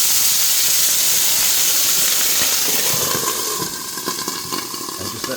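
Loud, steady hissing and sizzling as a little water hits a hot pan of chicken gyoza to steam them, easing slightly toward the end with faint crackles.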